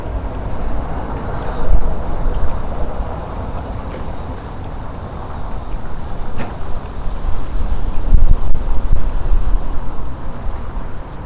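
A windy day in Alcoy, Spain buffets an outdoor microphone with continuous low roaring gusts that rise and fall, plus occasional distant street clicks and knocks.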